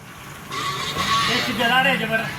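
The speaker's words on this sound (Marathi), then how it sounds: "मोनू भाऊ बघा गाडी बी आली आपली" A car engine approaches with a rising whoosh and tire noise while people talk nearby.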